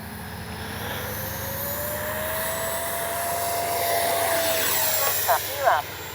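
A Freewing 70mm BAe Red Hawk RC jet's electric ducted fan spools up on the runway, a steady roaring whine with a slowly rising tone, building louder toward the end with a couple of brief surges.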